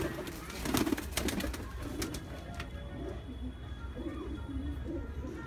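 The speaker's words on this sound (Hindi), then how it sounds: "ठीक ये रहे दोनों कबूतर" Low, soft cooing of a pair of pigeons at a pigeon loft repeats throughout, with scattered fluttering and background chatter close by.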